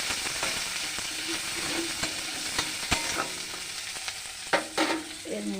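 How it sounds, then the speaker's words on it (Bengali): Spices, slit green chillies and a little onion sizzle and fry in hot oil, a steady crackling hiss with occasional clinks and stirring scrapes, close and continuous with no talk. "ফোড়ন দিচ্ছি, ফোড়নে কাঁচা লঙ্কা দিয়ে দিলাম, চেরা কাঁচা লঙ্কা, অল্প একটু পেঁয়াজ দিয়ে দিলাম"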